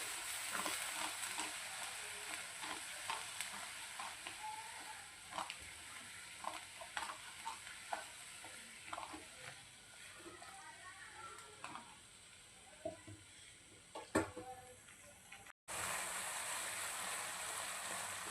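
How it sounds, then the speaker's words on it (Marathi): Coconut masala of ground fresh coconut and coconut milk sautés in oil in a pan for a Konkani-style mackerel curry, giving a steady close sizzle with scattered spatula scrapes and stirring clicks throughout, briefly cut to silence near the end. "तेल छान पद्धतीने आपल्याला तेलामध्ये परतून घ्यायचं आहे, छान असं तेल सुटेपर्यंत"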